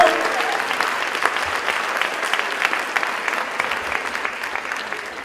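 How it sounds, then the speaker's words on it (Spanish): Audience applause breaks out for an honoured occupational therapy graduate, a dense, fairly loud wash of many hands clapping that holds steady and tapers slightly near the end, with a brief voice at the start. "Así que fuerte el aplauso."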